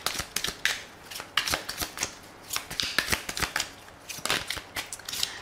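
Tarot cards are shuffled by hand in quick, uneven riffling bursts of crisp papery flicks. The sound is close and fairly quiet, with no voice over it.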